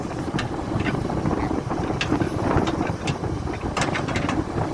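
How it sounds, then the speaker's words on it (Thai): Strong wind buffets the microphone outdoors at a canal-dredging worksite beside a Komatsu PC200-8 excavator, a steady broadband roar with gusty swells running through the whole stretch. "ลมแรงครับท่านผู้ชม"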